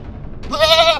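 Goat bleats once, a short, close, wavering cry that rises out of quiet background noise midway through.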